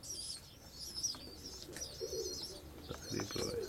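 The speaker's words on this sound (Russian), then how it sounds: "Подхрипывает голубенок. Чуть подхрипывает." A pigeon chick in a coop coos softly with a slight wheeze, the low calls coming in short bursts, with other birds chirping and pecking in the background and a person talking nearby.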